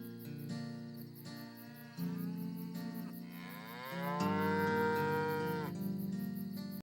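Cattle on a night trail drive moo in long, drawn-out calls that overlap and rise in pitch, several animals at moderate distance, steady and unaccompanied by speech.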